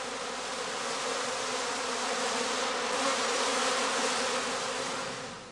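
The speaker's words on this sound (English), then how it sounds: "the young queen surrounds herself with bees in order to leave the skep" A dense, continuous buzzing drone of honeybees fills the air as a cast swarm with a young queen pours out of a straw skep hive, loud and steady throughout before easing slightly at the end.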